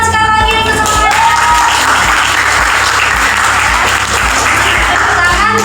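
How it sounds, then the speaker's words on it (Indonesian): A classroom of students claps together in a loud, sustained burst of applause, with dense rapid clapping throughout and no voices rising above it. "Tepuk tangan sekali lagi untuk semangat."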